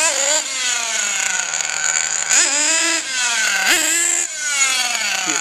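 Small RC nitro engine on its sixth tank, running a break-in heat cycle: a loud, buzzy high-pitched whine that holds steady, with sharp throttle blips rising and falling around two, three and four seconds, no talking.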